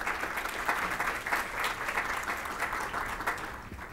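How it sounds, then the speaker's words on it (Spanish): Audience applause greeting a speaker at an education conference, dense steady clapping from a large crowd that holds level for four seconds and then starts to thin, with no voices over it. "Recibimos con un aplauso al señor Jaime Palés."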